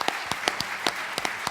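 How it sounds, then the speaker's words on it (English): Scattered, sparse claps at a business breakfast event, a handful of distinct sharp hand claps at uneven intervals, fairly close and moderately loud, with no crowd roar. "please give a New Jersey, Bergen Community College round of applause for the folks at Salem"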